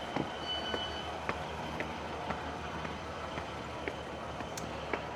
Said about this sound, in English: We'll get a view of the train.